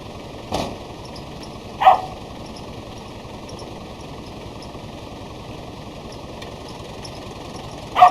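A 1997 Nissan D21 Ultra Eagle pickup with the BD25 engine idles in a steady, low, even hum, broken by a few brief sharp knocks and clicks, with no one talking.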